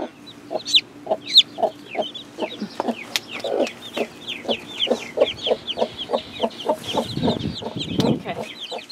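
A broody hen clucks steadily in a rapid, rhythmic series, close by, while high thin peeps from her newly hatched chicks chirp above her.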